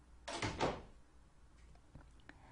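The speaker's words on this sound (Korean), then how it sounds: "비밀번호가 생각나서 문을 열고" A door-opening sound effect from the video game Phantasma gives a soft, brief creak and thump near the start, followed by a few faint clicks in a quiet room tone.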